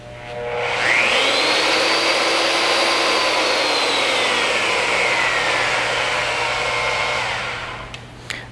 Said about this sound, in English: Press the trigger switch for a second time and hold to return to the 0 degree starting position.